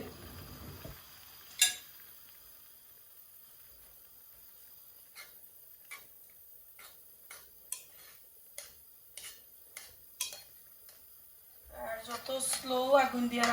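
A spoon scrapes and taps in a pot of Sylheti curry once the lid is lifted, giving scattered light metallic ticks and clinks, then a louder stretch of stirring and sizzling at the end.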